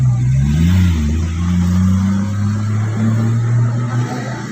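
Car engine during a driving lesson, a steady loud droning hum with slight swells in pitch as the throttle is pressed, continuous throughout with no speech.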